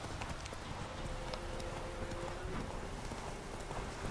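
Horse hooves clip-clop at a steady, brisk pace over a continuous background wash in The Witcher 3 video game, moderately close, with no voices.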